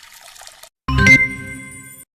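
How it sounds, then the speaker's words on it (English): Milk poured from a container into a pan on a stove in VR Chef, heard as a loud, close liquid splash with a bright ringing tone that lasts about a second after a stretch of faint noise. "Pour the milk in the pan, which is on the stove."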